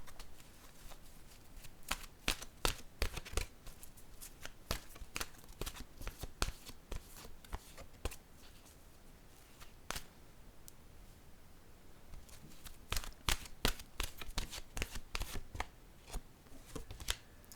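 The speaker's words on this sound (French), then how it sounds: "Je vais piger une carte de mon oracle de l'âme intuitive." Oracle cards from an intuitive-soul deck being shuffled and drawn, a steady run of soft papery riffles and flicks in quick bursts, close to the mic with brief pauses, no talking.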